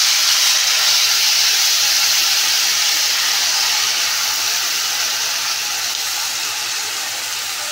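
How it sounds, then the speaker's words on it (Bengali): Hilsa fish pieces slid one by one into a hot pan of oil while cooking ilish biryani, giving a loud, steady frying hiss and sizzle that runs unbroken and fades slightly toward the end. "এবার আমি এক এক করে মাছটাকে ছেড়ে দিলাম"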